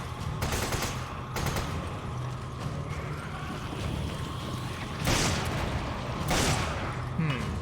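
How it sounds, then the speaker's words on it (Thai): Rapid bursts of gunfire from the video game Resident Evil 5 break out several times over a constant noisy backdrop. "โอ้โหยิงกันเพลินเลย"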